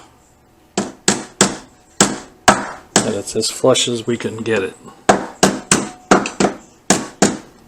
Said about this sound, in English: We're going to give it a little tap with the hammer to make sure that it's